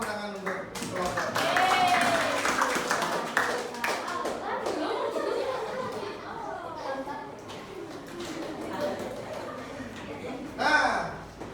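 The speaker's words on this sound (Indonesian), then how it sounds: "berikan tepuk tangan untuk kelompok" A classroom full of people claps together for a group presentation, a dense burst of applause mixed with children's voices chattering, fading then briefly swelling again near the end.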